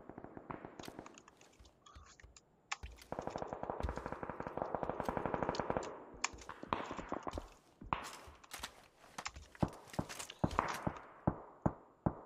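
Rapid shotgun blasts and clattering effects in a shooting video game, firing in fast dense bursts and then scattered single shots, crisp and close with no speech.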